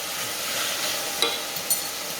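Finely chopped celery is stirred in a pan over a soft, continuous sizzle, with a faint scrape and a small utensil tap near the end and no talking.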